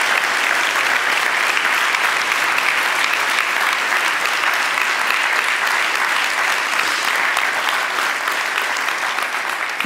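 Steady, dense audience applause fills a German nonfiction book prize award ceremony, clapping for the jury continuously at full strength for about ten seconds with no speech over it.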